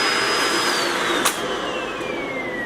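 A Shark NV650 vacuum cleaner runs steadily with a loud, high whine, its pitch sliding slightly lower partway through, with a brief click midway.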